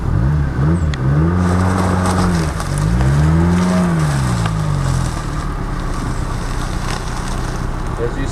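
A 1991 Subaru Sambar kei truck engine revs and whines in four-wheel drive extra-low gear, pitch rising and falling in waves, loud and close, before settling into a steady drone.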